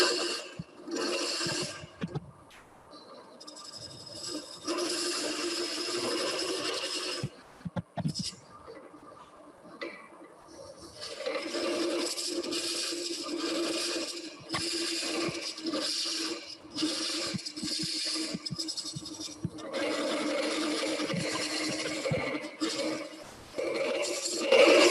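A woodturning tool hollows a bark-edge wood vase on a running lathe, giving a continuous rough scraping and rasping that swells and drops in bursts, with someone talking intermittently over it.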